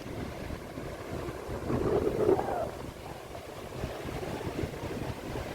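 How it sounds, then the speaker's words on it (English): Atlantic Ocean surf rolls onto the beach at Ocracoke on the Outer Banks as wind buffets the microphone. A continuous wash of noise swells louder for a moment near the middle, then settles back. "Here's the Atlantic Ocean on the beach side of Ocracoke."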